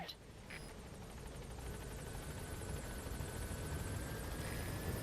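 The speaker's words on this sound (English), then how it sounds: "let's get the chopper here" A support helicopter arrives in the video game Metal Gear Solid V, its rotor a low, steady thrumming whir that grows slightly louder throughout, with a voice heard only faintly.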